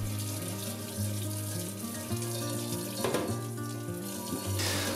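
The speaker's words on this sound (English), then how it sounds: "all it took was a nylon brush and some water to take it off" Soot is washed off camp cookware from a BioLite CampStove 2 using a nylon brush and water, with steady running water from a tap splashing close up and continuous, with no talking.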